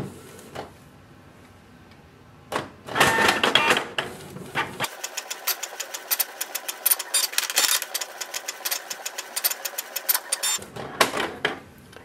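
A Canon Pixma G3660 inkjet printer prints a document, whirring and ticking through rapid mechanical clatter with a low motor hum under the feed, starting after a quiet pause and running steadily close by.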